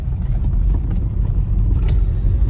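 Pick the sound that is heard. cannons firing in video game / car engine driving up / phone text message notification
car engine driving up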